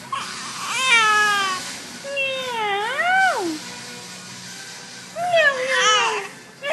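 A cat meows several times in drawn-out, rising and falling cries, close and loud, with a person's voice nearby between calls.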